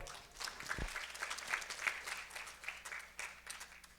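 Audience applause at a devotional discourse on the Vachanamrut, a faint, steady patter of many hands clapping at a distance, with one soft thump early on.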